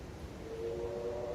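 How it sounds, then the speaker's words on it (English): A passing train is heard faintly in the distance, a low steady rumble with a thin horn-like tone swelling slightly near the end. "That's a train."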